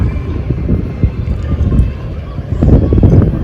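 Strong wind buffets the microphone in heavy low rumbling gusts beside the Davao River, with a faint background hum and water-side ambience.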